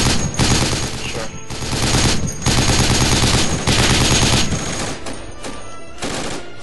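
Sustained automatic gunfire in the tactical shooter Project Reality, loud and close, coming in long bursts broken by short pauses, with a faint voice underneath.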